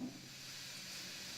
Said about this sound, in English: Steam control valve.